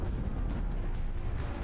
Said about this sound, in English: We got some explosions in there.